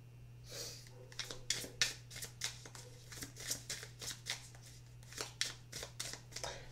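Tarot cards shuffled by hand in a run of quick riffling bursts, moderately close and fairly quiet, over a steady low electrical hum and with no talking.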